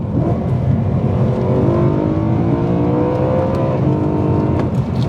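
A BMW M3 E92 V8 engine revs hard toward 8,300 RPM and climbs in pitch, a loud continuous roar with rising whine, close by and no talking.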